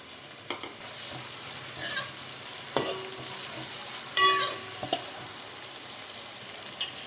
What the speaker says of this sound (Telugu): వేసుకుని ఇందులో సన్నగా కట్ చేసుకున్న ఒక మీడియం సైజు ఒక 2 ఆనియన్స్ అయితే వేసుకుంటున్నాను నేను